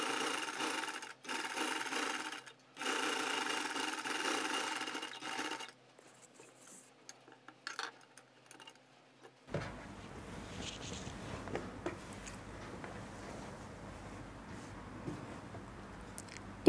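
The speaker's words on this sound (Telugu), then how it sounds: "తిప్పి మళ్ళీ ఇది కూడా స్టిచ్ చేసుకోండి." A sewing machine stitches the neckline of a kurti in short runs of rapid whirring, separated by pauses and small handling clicks, followed by quieter rustling of fabric close by.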